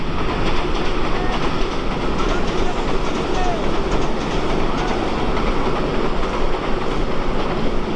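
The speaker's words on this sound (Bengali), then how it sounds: "পানির উপর দিয়ে ঝকঝকাঝক শব্দে ছুটে যাচ্ছে ট্রেন মামা।" Red-and-green express train running across the Chalan Beel wetland, a loud steady rumble with clattering wheels passing close throughout.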